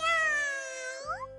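A cartoon kitten from a Hindi-dubbed Ninja Hattori and Talking Tom episode gives one drawn-out, high, tonal meow that bends upward at the end. It is clear and close, with no talking over it.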